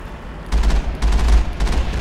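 Mass Effect gunfire in combat, with bursts of rapid shots and heavy low booms starting after a brief quiet moment, loud and dense for most of the stretch.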